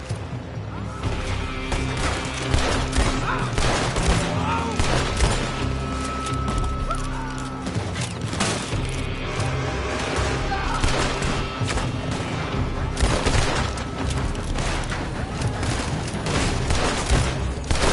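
Continuous gunfire from a building in Red Dead Redemption 2, with shots and crashes packed into a dense, steady battle din that lasts the whole stretch, and voices mixed in.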